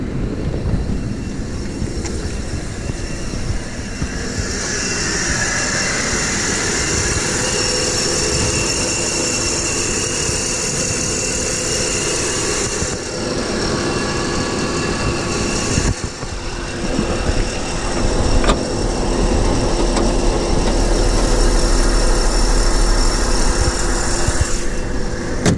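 A 1993 Plymouth Grand Voyager's 3.3 V6 runs steadily at idle with a continuous, fairly loud drone and a faint hiss, heard close with no talking.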